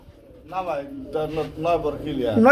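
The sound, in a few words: Lakha pigeon cooing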